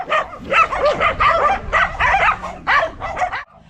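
Several dogs in a pack bark and yelp in rapid, overlapping bursts, loud and near, keeping up a busy rhythm before cutting off abruptly at the end.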